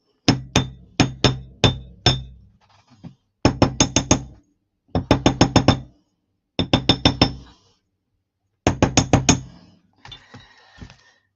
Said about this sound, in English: Give it a quick hammer.